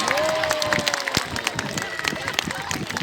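An audience applauds at a sea lion show in an aquarium, a sustained patter of many hands with crowd hubbub, while a presenter's voice and whistle-like tones sit on top.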